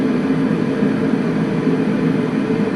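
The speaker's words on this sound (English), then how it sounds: "So we're going to go through the white noises." LectroFan white noise generator plays a steady, even hiss with a low rumbling emphasis, continuous and unchanging, close and moderately loud.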